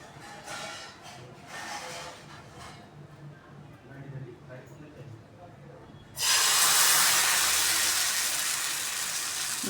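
Jowar flour batter poured onto a hot oiled pan for dhirde, erupting into a loud, sudden sizzle that holds steady and close after a stretch of quieter handling sounds.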